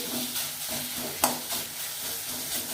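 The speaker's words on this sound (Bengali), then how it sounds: "এটা নাড়াচাড়া করে একটু মাখিয়ে নিই।" An onion filling with lemon juice squeezed in is stirred in a pan on the stove, a soft continuous sizzle with gentle scraping strokes and one sharper clack of the spoon against the pan.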